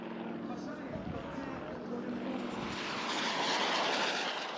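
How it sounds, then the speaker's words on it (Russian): Aircraft engines drone overhead during an Independence Day air show parade in Zaporizhzhia, a broad roar building louder toward the end, with a voice talking over it. "16 самолетов кружили в небе 3 часа"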